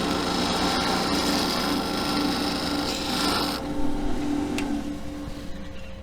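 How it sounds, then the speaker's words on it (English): Continuous scraping and hissing of a wooden tenon being turned down to diameter for a file handle, a steady close cutting texture that eases slightly near the end, no talk. "next step now is for me to turn the rest of the tenon down to that diameter"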